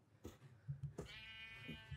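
A Minecraft sheep bleats faintly in a quiet game scene, with a couple of short soft bleats and one longer, wavering one, and no talking.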